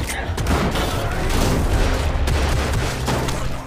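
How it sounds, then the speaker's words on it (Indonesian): Dense, continuous gunfire and booming shots fill the scene, with rapid bursts layered over a rumbling background, loud and sustained throughout. "Alhasil, aksi tembak-tembakan kini terjadi lagi."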